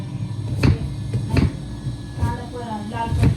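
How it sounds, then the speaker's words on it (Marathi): Four knife strikes on a cutting board while onions are finely chopped, spaced about a second apart, close and fairly loud over a steady background hum. "आता कांदे कापतोय तर कांदे बारीक कापायचे आहेत"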